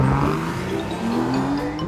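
A car pulls away from a standing start, its engine note climbing steadily in pitch as it accelerates, loud and close at first and fading slightly as it moves off, with no talking.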